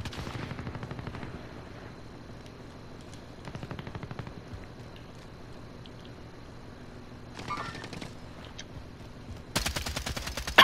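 Gunfire in Call of Duty: Warzone, with PKM and M13 machine guns and an HDR sniper rifle: rapid automatic bursts rattle steadily in the foreground over game ambience, ending in a loud sharp volley.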